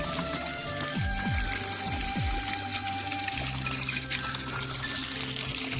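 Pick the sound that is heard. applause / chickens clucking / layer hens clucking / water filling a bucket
water filling a bucket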